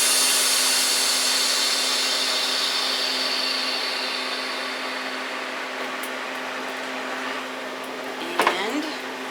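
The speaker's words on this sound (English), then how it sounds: "Release the pressure." A home freeze dryer drying Christmas candy lets its vacuum go with a long broadband hiss that slowly fades, ending in a brief sharp click.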